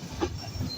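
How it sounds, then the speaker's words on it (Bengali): The Silk City Express passenger train enters Joydebpur Junction in Gazipur, giving a steady low rolling rumble of railcars with a faint wheel hiss, heard alone with no voices. "সিটি এক্সপ্রেস প্রবেশ করছে আজকে যাত্রাপথে তার 11তম যাত্রাপথ স্টেশন গাজীপুর জেলার জয়দেবপুর জাংশনে।"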